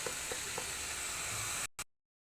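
Bean sprouts (toge) sizzle steadily as they sauté in a pan, a continuous close frying hiss with faint crackles that cuts off abruptly near the end.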